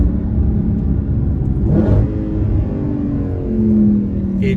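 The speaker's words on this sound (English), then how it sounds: "just listen to the way this thing sounds on the downshift" A 2013 Audi RS5 V8 engine rumbles steadily with a brief rising rev on a downshift in the middle, then settles back to a smooth, throaty idle-like drone.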